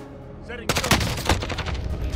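Rapid automatic gunfire in the video game Call of Duty Warzone Zombies, a dense sustained burst of shots that starts abruptly after a short moment of quieter game sound.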